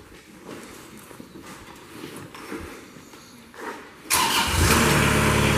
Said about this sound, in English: Hear that engine come to life.